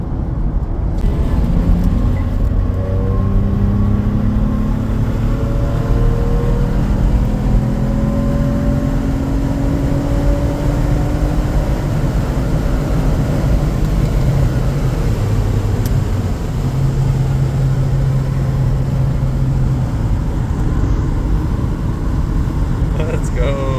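A 2014 Acura MDX with a full 3-inch exhaust and tune revs hard toward the rev limit, a loud continuous engine drone with rising and falling pitch sweeps and a steady roar throughout.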